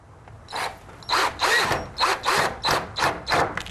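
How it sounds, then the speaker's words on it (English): A power drill drives screws from the top down through pre-drilled, countersunk holes into a custom window frame, heard as about seven short, close whirring bursts separated by brief pauses. "Darrell's going to go ahead and screw from the top down"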